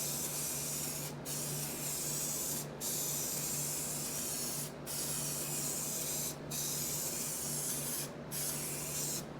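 Steady, close hiss of spray adhesive coating new foam for a 1973 Suzuki TC125 seat, running continuously with a few brief gaps where the nozzle is released.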